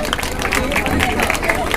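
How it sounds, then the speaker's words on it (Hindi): A school audience claps for a team at a village school event, with a short burst of steady, busy clapping mixed with crowd hubbub. "तो टीम बी के लिए उससे थोड़ा सा ज्यादा ताली बजाएंगे।"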